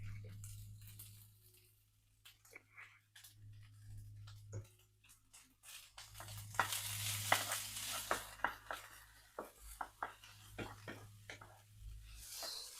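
Rice stir-frying over medium heat with black pepper, spatula scraping and clinking against the pan in irregular strokes over a steady low hum and soft sizzle, growing busier and louder midway.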